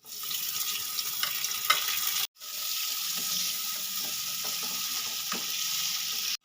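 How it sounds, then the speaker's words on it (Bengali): Onion and chopped tomato frying in a pan for a Bengali fig and prawn curry, a steady close hiss and sizzle with a brief break, plus light clicks of stirring. "এবার এর মধ্যে আমি দিয়ে দেবো কুচিয়ে রাখা টমেটো"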